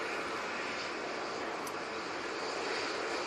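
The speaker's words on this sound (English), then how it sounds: "Emirates approaching Dane" An Emirates Airbus A380 airliner on approach makes a broad, steady engine roar that is loud and continuous, with no talk over it.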